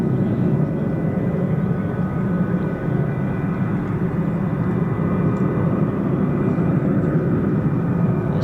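A Lockheed Martin F-35 fighter jet engine spools up at an air force base, RAF Lakenheath, as a steady, loud, continuous roar with no breaks, heard from some distance away.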